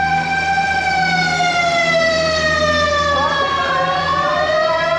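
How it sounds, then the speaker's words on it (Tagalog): A loud wailing ambulance siren sweeps through its rising and falling tones close by, continuous from start to end with a steady motor rumble beneath. "Ambulansya."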